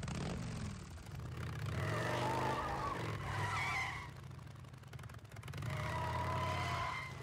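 Motorcycle engine fitted with a new exhaust in the video game Days Gone, a loud steady revving growl with rising surges and tire-skid-like bursts, heard alone without talk.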